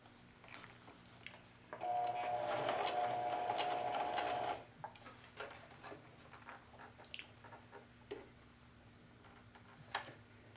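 Sewing machine straight-stitching a jeans pocket, a single steady whirring run of about three seconds, close, followed by quieter handling clicks and taps.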